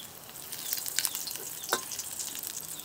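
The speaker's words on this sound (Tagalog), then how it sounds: "Painit na tayo ng mantika, luya," Ginger frying in hot cooking oil, a steady fine sizzle with a few brief louder crackles and pops, close by and with no talking.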